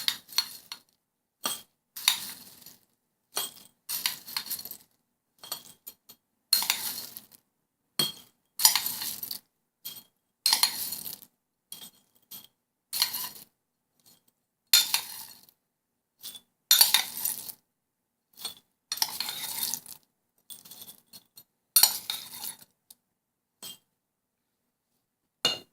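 Dried beans are poured into a pot of instant chili, falling in a long series of sharp, separate rattling clinks and patters, close by, with short silent gaps between each pour.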